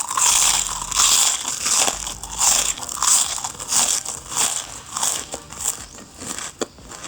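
Repeated crisp crunching as someone bites and chews a fried petai cracker, kerupuk pete, close up in a series of crackly bursts with short pauses, no talking.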